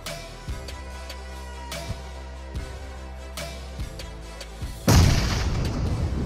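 A grenade blast in PUBG Mobile gameplay erupts near the end as one loud broadband burst with a rumbling tail, after several sharp thuds against a steady game hum.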